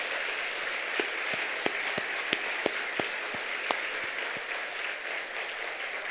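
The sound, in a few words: church congregation applauding a choir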